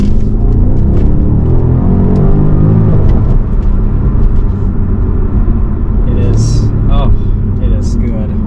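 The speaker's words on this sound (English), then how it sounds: "downshifts are rev matched like a proper sports car" A 2018 BMW M550i xDrive engine rumbles and blips sharply during rev-matched downshifts, with rising and falling revs on a wet road, loud and close, while a voice talks over it.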